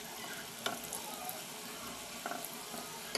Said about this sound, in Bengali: আমি কিছু রোল আপনাদেরকে ভেজে দেখাচ্ছি। এটা অবশ্য ডুবো তেলে ভাজতে হবে